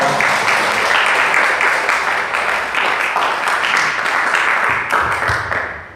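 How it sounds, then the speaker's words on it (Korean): Congregational applause at a Sunday revival service in a Paraguayan Full Gospel church, as a guest pastor is welcomed. Dense, steady clapping fills the room for about six seconds, with a few voices mixed in, and it thins near the end. "하나님께 영광의 박수 올려드리면서 강사 목사님 맞이하겠습니다"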